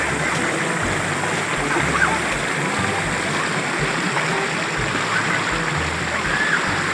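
Small, short waterfall and stream at Tonggo Falls, Bohol, rushing steadily and close by as broadband water noise, with a low hum from an intermittent rumbling source running underneath throughout.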